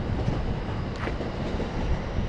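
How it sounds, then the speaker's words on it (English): A passenger train rolls by near a seaside park area at Maiko Beach, giving a steady, loud rumble and wind-like roar that fills the whole moment with a faint rhythmic clatter. "Beyond the train going past, which is the train I need to get on soon"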